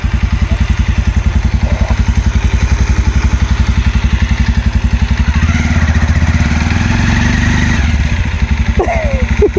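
A motorcycle stuck on the sand at Dhanushkodi, rear wheel spinning in place, runs with a loud, steady, rapidly pulsing engine throb that swells briefly as it is revved, close to the microphone, with faint voices over it.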